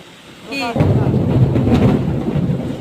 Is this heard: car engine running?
no